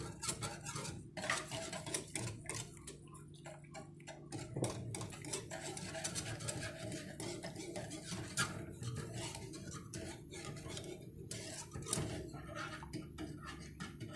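A spoon scrapes and clinks against a metal pan while stirring a chocolate cocoa drink as added sugar melts over the flame, quiet close scraping strokes in an irregular rhythm.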